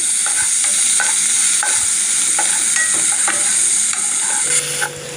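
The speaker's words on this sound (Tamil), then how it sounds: "இப்போ வெங்காயம் வந்து நல்லா ஃப்ரை ஆகணும். நெக்ஸ்ட் நான் 2 கொத்து கருவேப்பிலை ஆட் பண்ணிக்கிறேன்." Onions and curry leaves frying in a pan for a fried fish curry make a loud, steady hiss with short metallic scrapes and taps of stirring spread through the clip, and no one speaks.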